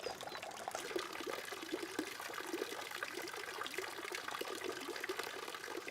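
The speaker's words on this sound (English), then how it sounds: "There's a wall fountain, that lovely gentle burbling sound." A garden wall fountain gives a gentle, continuous burbling trickle of falling water, soft and steady with no voices.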